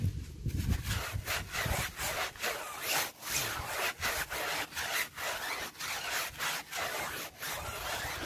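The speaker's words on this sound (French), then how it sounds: "j'utilise du coup ma brosse à pneus avec une solution savonneuse et on vient frotter" A tire brush scrubs a car wheel rim with soapy solution in steady, rhythmic back-and-forth strokes, each a loud, close, gritty rub repeating about every half second.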